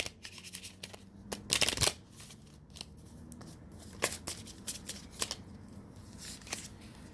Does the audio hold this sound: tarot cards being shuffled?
yes